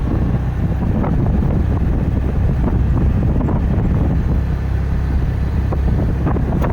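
Traffic on the Meerut–Delhi expressway heard from a moving vehicle, a constant loud rumble of road and engine noise with wind buffeting the microphone, without talk.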